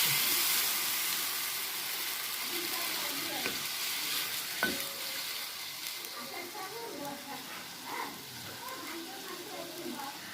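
A paste of ground coriander, cumin, chili and turmeric sizzles in oil in a kadai, a steady hissing fry with occasional stirring scrapes and a few brief clinks, moderately loud and close.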